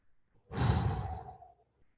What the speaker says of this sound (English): take one deep breath in. I'll do it with you. And then one deep breath out.